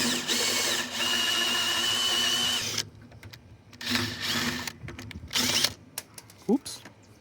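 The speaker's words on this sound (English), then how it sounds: "I gotta drill this rivet out." Power drill boring out a rivet on a Subaru Sambar-based kei fire truck under restoration, a steady high whine for nearly three seconds, then short intermittent bursts as the bit bites, close and fairly loud.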